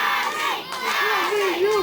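Wrestling crowd at a CWF Mid-Atlantic Battlecade VII event cheering and shouting loudly and continuously, with a commentator's voice riding over the roar.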